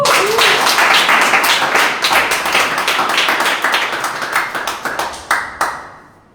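A small group of people claps their hands in a loud, close, uneven patter that thins out and slows, ending in a few scattered sharp claps.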